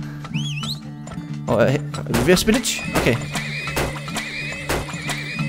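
Horses in the Turmoil oil-drilling game whinny and clop over steady game music, with a rising neigh early on and irregular hoof knocks throughout, while someone talks over much of it.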